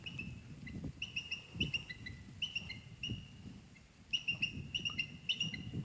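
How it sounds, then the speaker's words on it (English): A hawk or eagle calling outdoors at dawn: repeated sharp, high chirping calls in short clustered bursts, moderately loud and somewhat distant, over low rumbling background noise. "Oh my God, it's a hawk or an eagle or something."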